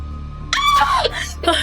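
A loud, shrill female scream rises sharply in a horror story, one long cry followed by a shorter second burst, close and alone over a faint hum.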